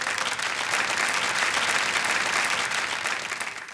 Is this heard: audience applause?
yes